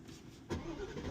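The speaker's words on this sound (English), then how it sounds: "Thought you guys might want to join me for a startup in the Aston Martin." An Aston Martin V8 engine starting up, a short burst of cranking that catches into a loud, close rumble and settles toward idle.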